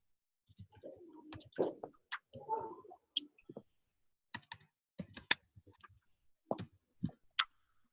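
Scattered clicks and taps from typing on a computer keyboard come in short irregular bursts, close and faint in an otherwise quiet room.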